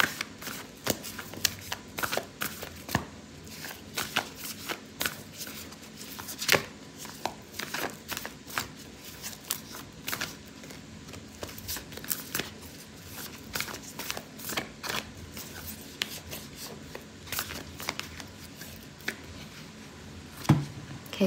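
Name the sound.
shuffling oracle cards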